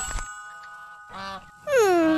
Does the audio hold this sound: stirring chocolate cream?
no